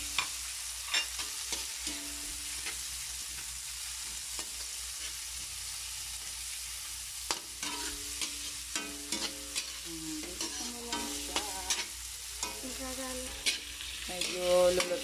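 Dried anchovies (dilis) and tomato sauté in a hot pan with a steady sizzle, while a utensil stirs and scrapes in irregular bursts that grow busier toward the end; no one speaks.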